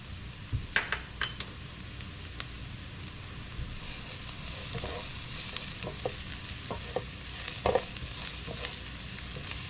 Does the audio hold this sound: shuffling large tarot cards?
no